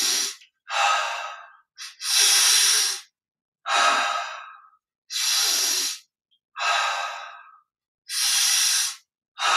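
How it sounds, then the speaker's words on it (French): Slow, deep breaths during a guided meditation, about nine airy, hissing inhales and exhales in a steady rhythm, each separated by a short silence, close and clear with no talking. "Expire, on lâche."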